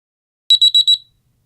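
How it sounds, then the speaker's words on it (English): A DRI Sleeper Eclipse bedwetting alarm sounds a loud, shrill electronic beep pattern, a quick burst of five high pulsing tones in under a second, alone in silence. "To use the alarm, turn them on."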